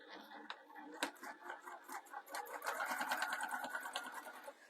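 A sewing machine top stitching down the edge of a faux leather bag, a quiet, close, steady run of rapid needle clatter that speeds up and grows denser partway through.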